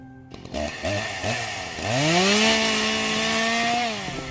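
Chainsaw in Minecraft: a few sputtering pulls and short revs, then a loud sustained high-pitched engine whine that holds steady for a couple of seconds before dropping off, close and prominent.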